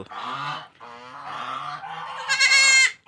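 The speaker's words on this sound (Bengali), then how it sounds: "পিছনে আমাদের রাজহাঁস আছে, এগুলো বাইর হওয়ার জন্য ডাক পাসতেছে।" Farm geese penned at the back honk loudly to be let out, a run of nasal, repeated calls overlapping close by, rising to a harsher, louder burst near the end, with no talking.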